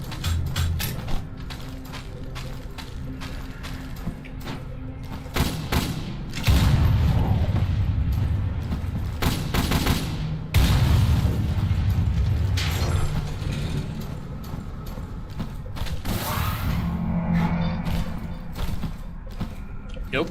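A weapon's full-auto alternate fire in a video game: dense, continuous mechanical rattling and heavy thumping bursts over about twenty seconds, loud and close, with short pauses between volleys.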